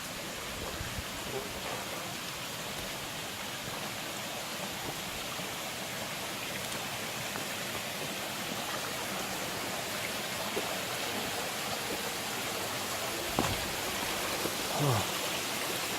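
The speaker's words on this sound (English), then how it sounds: "now traversing down towards the creek." A creek runs steadily on a muddy, staked trek across Rarotonga in the Cook Islands, its broad even wash of water sound continuing without a break, with a couple of faint knocks near the end.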